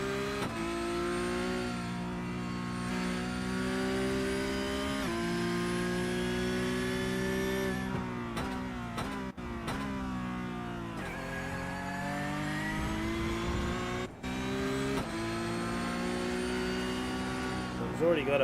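A Porsche Cup race car engine in a sim race holds a steady high-pitched whine, then lifts briefly on and off the throttle for gear changes and revs back up, under a commentator's talk.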